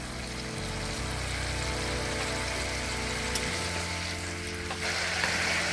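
Spiced masala with yoghurt sizzles steadily in a pan on a raised flame as the rinse water from the spice bowl goes in, for a rohu fish curry; a constant close frying hiss with a brief shift partway.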